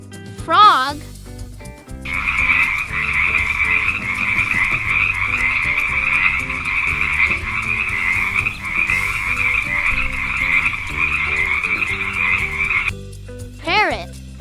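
A frog croaks in a steady, rapid, continuous rattling chorus for about eleven seconds, loud and close over background music in an animal-sounds set for toddlers.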